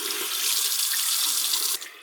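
Tap water runs steadily over a makeup brush as foundation and soap are rinsed out, a bright, close faucet hiss that cuts off abruptly near the end.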